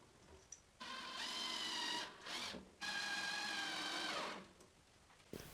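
A power drill drives a screw into pallet wood for an Adirondack chair, whirring in two sustained bursts with a brief pause between, then winding down to quiet with a faint click at the end.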